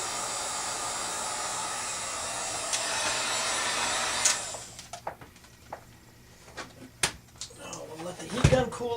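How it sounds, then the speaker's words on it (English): A heat gun blows hot air onto foam with a steady whooshing hiss for about four seconds, then shuts off, leaving quiet handling clicks and knocks. "Now we'll let the heat gun cool off."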